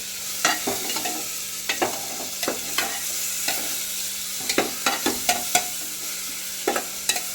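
Onion and tomato being sautéed in a pan for Solapuri masala rice, a soft constant sizzle broken by a series of sharp spoon scrapes and taps at an uneven rhythm.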